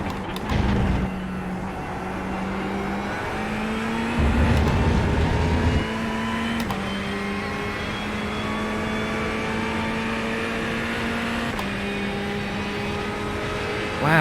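A Ferrari 488 EVO GT3 engine in iRacing climbs steadily through the revs, with a brief lift and a few quick upshifts, loud and close with no talking.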